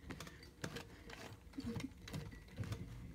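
Very faint sewing machine stitching, a soft rapid mechanical clatter running in short bursts with small clicks, quiet and distant-sounding throughout.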